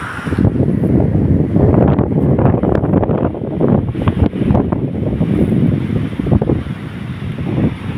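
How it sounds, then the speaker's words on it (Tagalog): Strong wind from Typhoon Marce buffets the microphone at the seashore in Maconacon with a loud, continuous roar, surf washing faintly underneath. "Yung hangin medyo malakas na."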